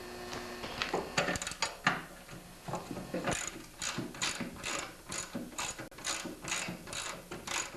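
A ratchet wrench loosens the last nut on a Toro snowblower, producing rapid close clicking pawl bursts in short uneven runs with brief pauses, fairly quiet and with no talk.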